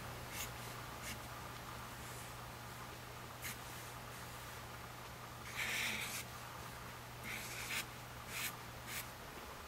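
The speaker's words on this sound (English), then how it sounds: "now let's draw a cute heart on this side" A pen scratches across paper in short, faint strokes while a cartoon heart is drawn, intermittent soft scribbling over a low steady hum.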